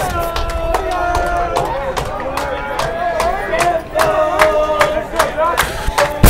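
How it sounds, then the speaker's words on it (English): Fans at a high school baseball game clap in rhythmic, steady unison behind the broadcast booth, with crowd chatter and shouts mixed in. "You can hear the clapping behind us."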